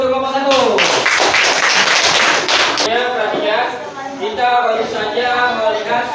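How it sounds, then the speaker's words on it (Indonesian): A classroom claps for a student group after their presentation. Loud, dense applause rises sharply and lasts about two seconds, then fades as a teacher talks over the last scattered claps. "Oke, tepuk tangan dulu untuk kelompok 1."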